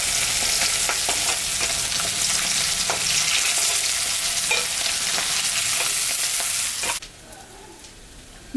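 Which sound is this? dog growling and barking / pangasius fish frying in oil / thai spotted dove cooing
pangasius fish frying in oil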